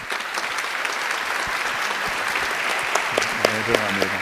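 An audience at a lecture applauds curator José Alves de Freitas Neto, a steady roomful of clapping that holds evenly, with a voice speaking over it toward the end.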